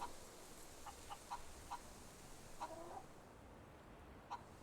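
A chicken in the video game Fable 3 gives short, quiet clucks scattered irregularly across a few seconds over a steady soft background hiss of game ambience.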